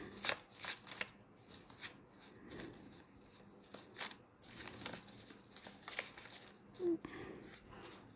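Tarot-style cards being shuffled by hand up close, a quiet run of repeated riffling flutters and soft slaps spaced through the stretch, with no clear speech.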